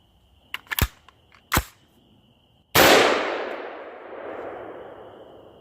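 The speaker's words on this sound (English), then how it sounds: "What I'm going to do now is take one shot and then see how hot this blast shield gets." A single loud, close gunshot fires through a BREEK Arms blast shield fitted over a muzzle brake, with a sharp crack and a long, ringing decay, after a few sharp mechanical clicks.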